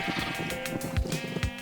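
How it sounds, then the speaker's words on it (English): Baby sheep bleating in a farming video game, several short wavering bleats overlapping over a soft musical background, close and moderately loud, with no voices. "Well, that's little baby sheep everywhere"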